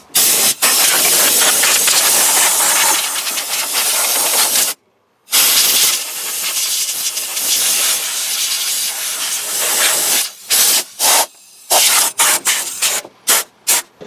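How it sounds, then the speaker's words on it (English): Compressed air blasts across a Nissan Titan engine bay before valve cover replacement, loud hissing bursts with short pauses, the later bursts shorter and choppier. "I'm going to give all the areas a little blast of compressed air"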